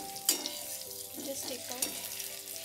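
Marinated eggs fry in oil in a kadai with a close, crackly sizzle. Stirring scrapes and small clinks are mixed in, and a person speaks briefly over the cooking.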